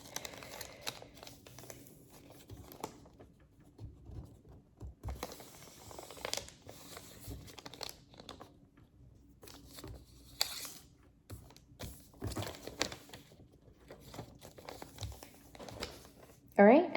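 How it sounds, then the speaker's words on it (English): A sheet of paper being folded over in a lesson, with scattered faint crinkles and rustles coming and going beneath quiet talk. "grab it by where that other tip of the paper is touching and fold over like that again"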